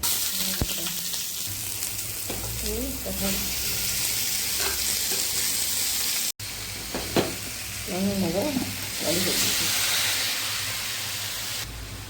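Onion, tomato and fennel seeds fry in a little oil in a kadai, giving a steady, loud sizzling hiss that runs throughout. Occasional stirring scrapes sit on top, and a voice talks softly in the background in places.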